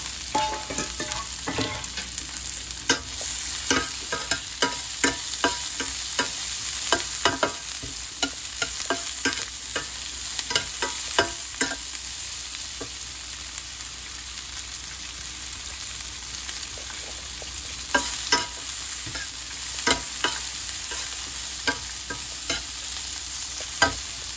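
Onions and fried fish for Filipino escabeche cooking in a pan, a continuous bright sizzle with frequent sharp scrapes and taps of a spatula as the mixture is stirred, close and without talk.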